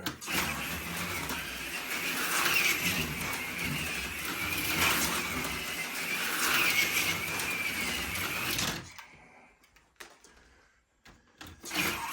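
A Life-Like M chassis HO slot car running around its track with upgraded tires, a close, steady whirring motor buzz with fluctuating pitch that cuts out abruptly near the end, leaving quieter clicks and rattles.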